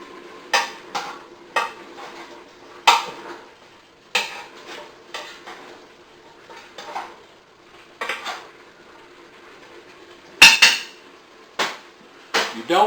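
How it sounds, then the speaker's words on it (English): A utensil scrapes and clanks against a metal pot of shuck beans in irregular bursts, with a faint bubbling simmer underneath and no voices. "So what I'm going to do is stir them right quick."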